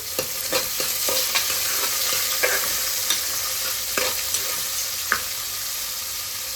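Onions roasting in a pan for mutton biryani produce a close, constant frying sizzle, punctuated by regular clicks and scrapes of a spoon stirring against the pan, with no speech.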